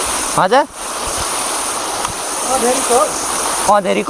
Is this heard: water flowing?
yes